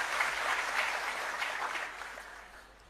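A crowd at an outdoor political rally applauds, with dense overlapping claps that hold steady and then gradually fade toward the end.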